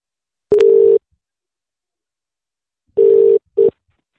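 A telephone line sounds while a call is being placed: loud, steady mid-pitched beeps, one long burst, then a pause and two more bursts, a longer and a short one, with silence between.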